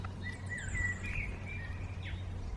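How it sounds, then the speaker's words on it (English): Wild birds by a creek in Tasmania trade thin whistled calls and a few chirps, fairly distant and soft over a steady low hum, with no voices. "Birds are everywhere."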